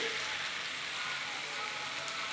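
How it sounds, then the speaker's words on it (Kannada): Drained mint leaves hit a pan of cooked tomato and oil, giving a steady, dense sizzle that stays loud and even throughout, with no voices over it. "ಇವಾಗ ನಾವು ಚೆನ್ನಾಗಿ ನೀರನ್ನ ಸೋರಿಸ್ಕೊಂಡಿರೋ ಪುದೀನ ಸೊಪ್ಪನ್ನ ಹಾಕ್ಕೊತಾ ಇದ್ದೀನಿ."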